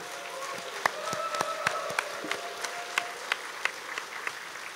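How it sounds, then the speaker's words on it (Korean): Scattered, sparse clapping at a formal ceremony opening a song festival, sharp individual claps spaced irregularly over a faint background with a thin tone in the room. "바로 이 강준호 회장께 여러분 큰 경례의 박수 한번 제안합니다."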